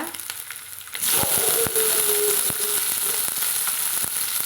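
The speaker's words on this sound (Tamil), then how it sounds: "கருவேப்பிலை வதக்கலாங்க முதல்ல நம்ம வதக்கிட்டு தக்காளி செத்திக்கலாங்க" Curry leaves and tomatoes hitting hot oil in a pan burst into a loud, close sizzle that holds steady and bright, with a few crackles and stirring scrapes throughout.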